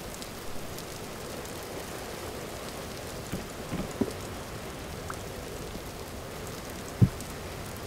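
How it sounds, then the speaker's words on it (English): Rain falling in the video game Vintage Story, a steady dense hiss of rain with a few faint distant thumps, no voices over it. "It's raining in your house."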